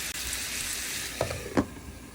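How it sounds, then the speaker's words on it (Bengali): Dried fish (shutki) frying in a pan give a soft, steady sizzle, with a couple of brief stirring scrapes near the end, fairly quiet and without talk. "শুটকিগুলো বারবার এভাবে নেড়ে চেড়ে দিতে হবে"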